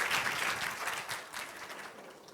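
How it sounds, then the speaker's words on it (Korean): An audience at a 2024 bio-future forum panel discussion gives a burst of applause, dense clapping from many hands that swells briefly and then gradually thins out, heard from within the hall. "여러분 큰 박수 한번 주시죠."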